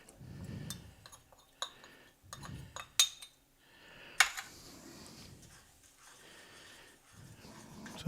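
Cornstarch slurry is poured and stirred into a pot of vanilla sauce, bringing quiet scraping and stirring with several sharp metallic clinks of a utensil against the pot, spaced irregularly and heard up close.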